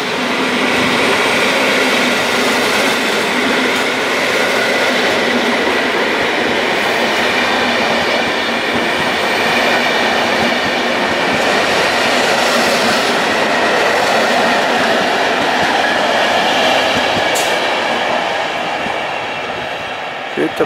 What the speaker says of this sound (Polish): Pusty skład.